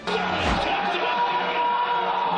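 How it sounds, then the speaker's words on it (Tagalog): Filipino basketball fans greeting NBA star Ja Morant of the Memphis Grizzlies, a loud sustained crowd roar of shouts and cheers with a brief low thump near the start. "Malakas na hiyawan ang sinalubong ng fans ni Ja Morant ng Memphis Grizzlies sa kanyang unang pagbisita sa Pilipinas."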